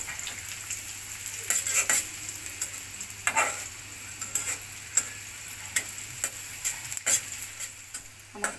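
Chopped onion and garlic fry in a pan, a soft continuous sizzle with intermittent scraping and tapping from stirring, close up and with no talking.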